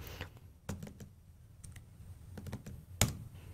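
Keys on a computer keyboard are pressed for shortcuts while coding a Python program, giving a few quiet, sparse clicks and taps with one sharper press near the end.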